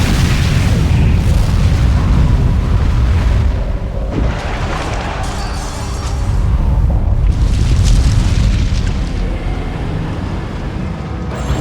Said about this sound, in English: Nuclear missile activated.